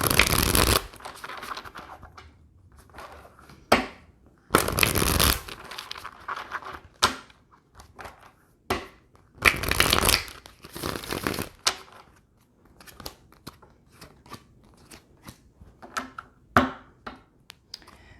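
Tarot cards are shuffled in repeated riffling bursts, loud crisp flurries of card edges separated by quieter handling and brief pauses, close and alone with no talk.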